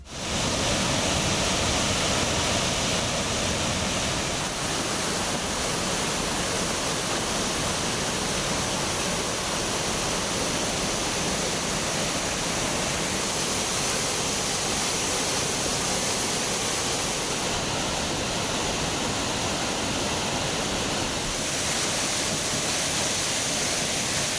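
Heavy waterfall roaring steadily with no letup, a dense full-band rush of falling water from a forest cascade where visitor access depends on the water flow, loud and close with no voices.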